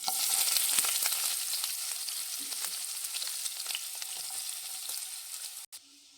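Sliced onions frying in hot ghee for ghee rice, a loud bright sizzle that settles into a softer, steady crackle before stopping abruptly.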